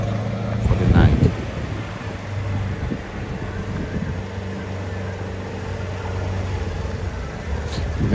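A 2020 Polaris Ranger XP 1000 UTV drives along heading home for the night, its engine a steady low rumble with wind buffeting the microphone and a louder burst near the start.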